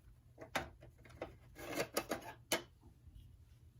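Plastic door being pried and unclipped from a 1981 vintage Kenner Empire Strikes Back Boba Fett Slave I toy spaceship, giving several short scraping, rasping clicks in a quick irregular cluster, close and fairly quiet.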